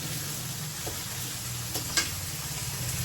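Potatoes fry steadily in a home kitchen pan, a continuous close sizzle running the whole time with a few faint clicks and one sharp tap near the middle.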